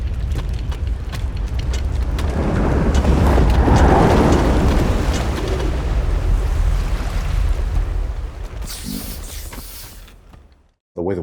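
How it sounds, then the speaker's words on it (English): Ocean waves from The Wild Robot film soundtrack surge in a broad, rushing roar that builds and recedes over several seconds, then cuts off abruptly near the end. "the waves in the very beginning, from the very beginning, the way the water is sounding"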